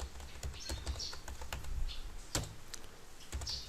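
Quick keystrokes clatter on a computer keyboard as terminal commands are entered, a fast irregular run of crisp clicks with a louder key strike midway, alone and fairly close.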